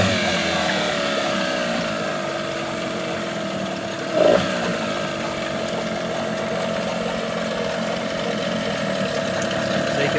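A Tohatsu 9.8hp outboard engine idles steadily in a test tank, a continuous even drone with one brief louder blip midway and no talking.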